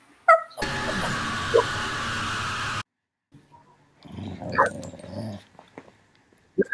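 A dog growls in a long, steady, rumbling snarl close to the microphone, then after a brief silence gives softer growls and whimpers, with faint talk nearby.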